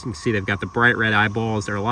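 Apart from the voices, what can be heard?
None of the usual background noises is heard.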